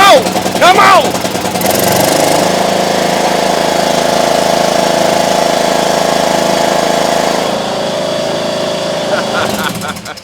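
A freshly rebuilt zero turn mower engine runs loud and close at a steady drone after startup, with a brief whine and rattle at first and a shout-like burst near the start.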